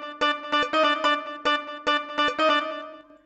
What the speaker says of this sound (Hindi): उसके बाद में यहाँ पे एक मैंने बेंजो यूज किया हूँ स्वर प्लग का